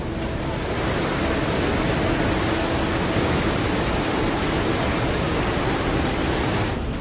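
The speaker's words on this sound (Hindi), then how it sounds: "हम आपको उफनती नदी के पानी के शोर को सुनाते हैं" Swollen, flooded river during heavy monsoon rain, its water roaring in a steady, dense broadband rush that stays loud and unbroken throughout, with no voices.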